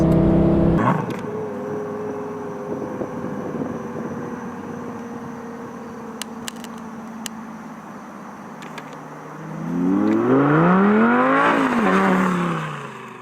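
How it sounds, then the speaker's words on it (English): A Lamborghini Gallardo's naturally aspirated, non-turbo engine drones at steady revs, then climbs into a rising, falling howl as the throttle opens, loud and close, with a few faint clicks. "Sound out of the engine is so nice. All natural aspirated, no turbos."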